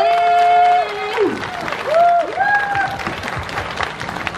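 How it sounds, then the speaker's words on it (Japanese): Crowd applause at a rice-flour food festival, clapping that rises briefly and fades, mixed with cheering and tonal calls and voices over it. "大きな拍手お願いします"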